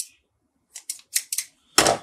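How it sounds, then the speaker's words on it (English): Small scissors snip thread at a Norvise fly tying vise, a handful of crisp close clicks in quick succession followed by a louder final cut, with no voices. "Let's get out some scissors."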